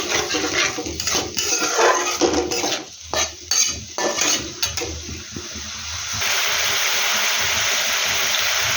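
Egg and potato curry (dimer dalna) stirred and scraped in a pan over high heat, a spatula clattering against metal in busy bursts, then settling into a steady close sizzle after hot water is added.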